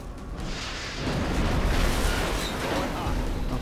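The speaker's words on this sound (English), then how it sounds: "I hope the rocket hits." A rocket explosion in XCOM: Enemy Unknown erupts as a loud, close, broad rumbling blast that swells after a brief onset and sustains a roaring debris-filled tail for several seconds.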